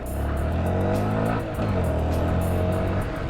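Honda Grom small motorcycle being ridden, its engine note droning and shifting pitch steadily, fairly close, with wind noise over it and no talking.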